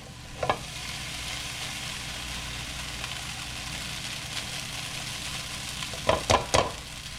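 Pasta browning in a frying pan: a steady, fairly quiet sizzle and hiss continues throughout, with a single clatter early on and a quick cluster of utensil knocks near the end.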